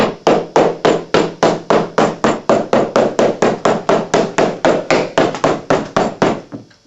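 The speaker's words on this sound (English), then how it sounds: "And then I'll tap it down with a cobbler's hammer that has a wide flat nose on it." A wide flat-nosed cobbler's hammer taps a leather saddle seat down, striking in a steady, even rhythm of about two dozen close, solid knocks with no talk.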